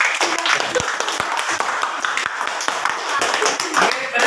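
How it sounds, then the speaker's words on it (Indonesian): A classroom of students clapping together, a dense, close patter of many hands layered with voices and chatter throughout. "tepuk tangan kita ucapkan semuanya"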